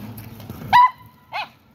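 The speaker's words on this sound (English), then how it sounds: "BlackOne, they're not criminals. They're just other dogs" A dog gives two short barks close by, the first a sharp yelp and the second a shorter bark a moment later, after some quiet rustling.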